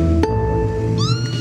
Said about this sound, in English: The black cat is here at the Star.